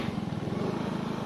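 A motorcycle laden with hollow concrete blocks, its engine chugging in a close, rapid, even low-pitched putter that stays steady throughout.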